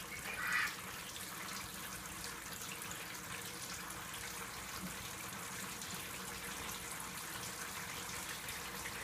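Water trickles and runs steadily down through a homemade fodder-growing system, a continuous soft wash at low level with a slightly louder splash near the start and no speech.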